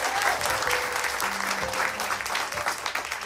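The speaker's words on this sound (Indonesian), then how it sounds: "tepuk tangan buat istri gue" An audience at a stand-up comedy show breaks into applause, loud, dense, continuous clapping from a crowd that fills the whole moment without any speech over it.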